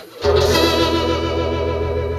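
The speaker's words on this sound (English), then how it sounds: "this is Vibratone, and then Vibratone Extreme" Acoustic guitar played through a Fender Acoustasonic DSP 30 amp with the Vibratone rotary effect, a strummed chord ringing out loud and sustained with a wavering, swirling shimmer and no talking.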